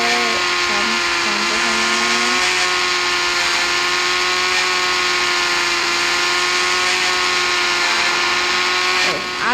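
Yamaha R15 V3 motorcycle engine from Indian Bike Driving 3D game, a loud steady high-pitched whine that holds its tone for several seconds before dipping briefly near the end.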